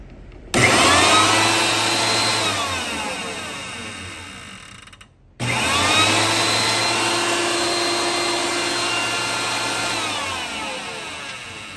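A bladeless band saw motor with a new pulley test-runs twice, each time spinning up abruptly into a loud, steady mechanical whirr with a ratcheting buzz and winding down slowly, separated by a brief stop.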